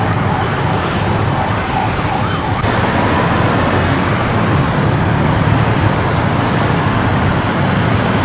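Heavy traffic circles the Independence Monument roundabout in Cambodia: a dense, continuous roar of cars and motorbikes with engines droning nearby and a siren wailing over the din throughout.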